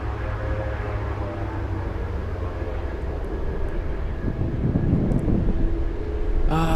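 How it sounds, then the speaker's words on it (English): A Dash 8 aircraft inbound from Fairbanks drones steadily in the distance on approach to Anchorage in gusty wind, its engine hum rising slowly beneath constant wind rumble. "The aircraft is a Dash 8, and it's flying in from Fairbanks"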